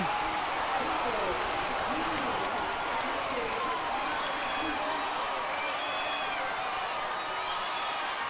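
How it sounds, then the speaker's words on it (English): Sellout crowd roaring and clapping at a college lacrosse game after a goal ties the score, a broad sustained wash of cheering with commentators talking over it. "Sellout crowd."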